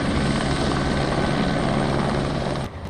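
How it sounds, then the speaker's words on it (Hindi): A rescue helicopter flies over a flood-hit area in Nepal, its rotor and engine roaring steadily and loudly throughout before cutting off abruptly near the end. "सेना को लगाया गया है, जो हेलीकॉप्टर की मदद से रेस्क्यू ऑपरेशन चला रही है"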